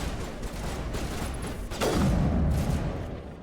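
Gunfire from the most powerful gun in Mass Effect Legendary Edition, a rumbling battle backdrop broken by one loud, sharp shot that rings out and decays into a heavy echoing boom.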